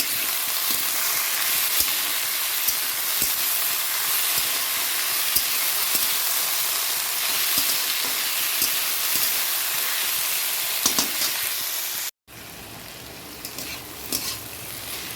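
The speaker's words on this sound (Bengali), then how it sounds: "এখানে পেঁয়াজটাও দিয়ে দেবো ঢেকে ঢেকে ভাজবো" Onions frying in a covered pan give a steady, loud sizzle and hiss with a few scattered crackles. A short cut to near silence comes near the end, and then the sizzle resumes.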